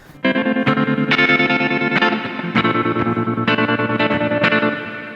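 An electric guitar plays a series of strummed chords through a Behringer UT300 tremolo pedal, a pulsing effect, about eight strikes in a steady rhythm with no voices.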